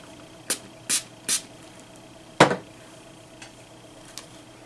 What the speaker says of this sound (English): I want to spray this as well